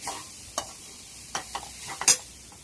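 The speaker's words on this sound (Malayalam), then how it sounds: "ഇതൊന്ന് ഈ നെയ്യിലൊന്ന് വഴറ്റി ചൂടായി വരുമ്പോഴത്തേക്കും" A spatula stirs and scrapes a pan of mashed tuber sautéing in ghee for banana-rava kinnathappam. A handful of brief clinks and scrapes sound over a faint sizzle.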